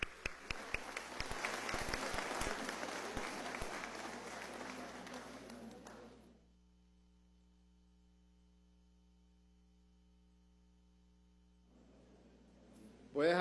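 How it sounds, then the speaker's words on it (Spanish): Applause in Venezuela's National Assembly during a session, a dense burst of clapping from the chamber that lasts about six seconds and then stops, followed by quiet room hum. "Aplaudamos al Parlamento del Sur."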